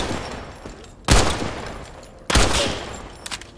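Two sharp no-scope sniper rifle shots from the shooter game Ironsight, each a loud close crack with a short echoing tail, spaced about a second apart over faint background game noise.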